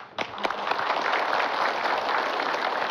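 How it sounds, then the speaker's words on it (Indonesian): A crowd at an Islamic sermon gathering breaks into sustained applause, many hands clapping steadily and loudly throughout, after a couple of sharp individual claps at the start. "Pak Ustadz Munawir Ngacir, tepuk tangan."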